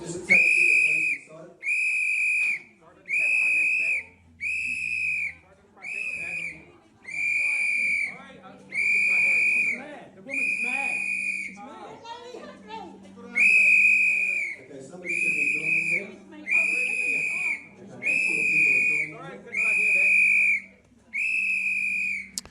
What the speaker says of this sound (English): Blows the whistle